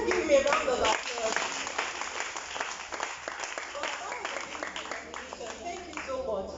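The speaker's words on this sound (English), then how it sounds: "please let's give him a round of applause" An audience at a school event for the International Day of the Girl Child applauds a young speaker, a steady round of clapping of moderate loudness lasting several seconds.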